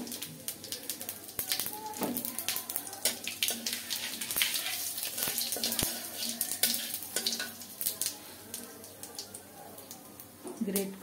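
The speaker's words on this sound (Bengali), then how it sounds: "জিরা ফোড়ন দিলাম" Cumin seeds dropped into hot mustard oil give a steady, hissing sizzle with crackly pops up close, while someone talks over the cooking.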